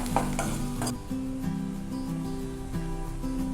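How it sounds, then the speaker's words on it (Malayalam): Garlic, ginger and green chili sautéing in a pan for bakery-style chicken rolls, a soft continuous sizzle with a few quick scraping stirs early on, close and alone. "ഇനി ഇത് നന്നായിട്ടൊന്ന് ഇളക്കി കൊടുത്ത് ഒന്ന് വഴറ്റിയെടുക്കണം."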